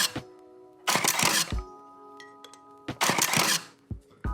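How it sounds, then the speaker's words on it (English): The shutter of a Fuji GX680 III S medium format camera fires twice, each firing a sharp mechanical clack with a short burst of whirring. Quiet clicks and faint tonal hums sit in the gaps. "We're gonna do the shutter sound right now"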